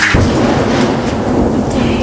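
Loud, continuous rumbling thunder rolls through a storm outside, with rain mixed in and no talking.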